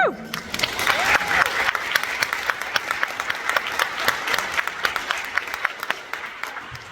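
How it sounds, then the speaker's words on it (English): An audience at a college convocation claps steadily, a lively patter of many hands that continues throughout, with a brief voice at the very start. "I didn't account for applause every time."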